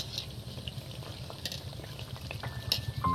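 Pumpkin beguni, battered pumpkin fritters, frying in oil that was heated fully and then turned down to medium: a steady, faint bubbling crackle with scattered small pops, no voices.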